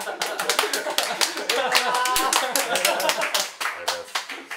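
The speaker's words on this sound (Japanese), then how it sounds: "拍手ぐらいして。" Several people clap hands at a Ginza lamb shabu-shabu restaurant during a birthday celebration, with quick uneven claps running steadily close by under cheerful chatter and talk.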